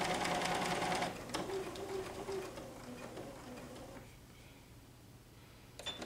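Sewing machine stitching quilted placemats, a quiet rapid mechanical whir of the needle running for about a second, then softer intermittent clicks and pauses as the machine slows and stops.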